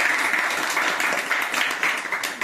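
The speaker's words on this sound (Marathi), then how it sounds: "अरे टाळ्या वाजवा रे" Schoolchildren clap together at a village school reading gathering, with steady crowd applause that fades slightly toward the end.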